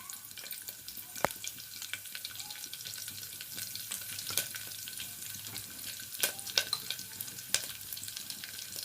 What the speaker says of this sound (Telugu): ఆయిల్ హీట్ ఎక్కగానే నేను ఈ తాలింపు దినుసులు వేసేస్తాను